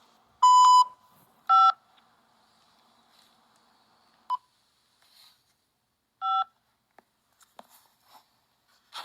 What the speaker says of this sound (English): Dial 5 now.